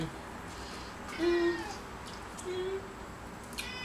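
A pet cat meows softly twice indoors in a kitchen, one short mew followed by a fainter second one about a second later, over quiet room tone.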